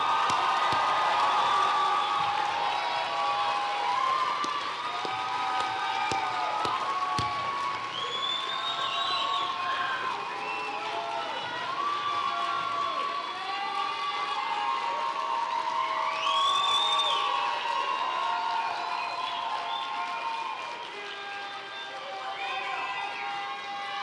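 High school graduates cheer after turning their tassels at a graduation ceremony, a sustained roar of crowd whoops, shouts and applause in a large hall that continues and slowly thins.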